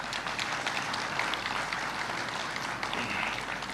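An audience at a business council address applauds, steady dense clapping from a sizable crowd heard at moderate distance in a large room, continuing evenly without talk.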